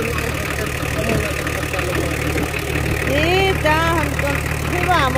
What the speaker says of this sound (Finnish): tämähän on hyvä moottori